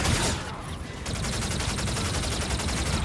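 Rapid automatic gunfire in the sci-fi shooter Call of Duty: Infinite Warfare, a dense, loud, steady stream of shots sustained throughout, with a brief dip near the start before the firing resumes relentlessly.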